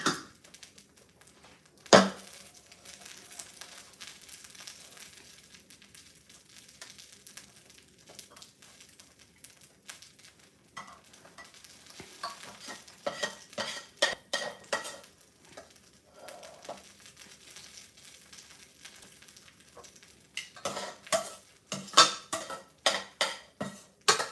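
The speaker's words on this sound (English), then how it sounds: "So obviously we'll plate the noodles first." Utensils scrape and clatter against a pot as noodles for teriyaki salmon pad thai are plated, with scattered clinks, sizzle and busier clanking toward the end, no talking.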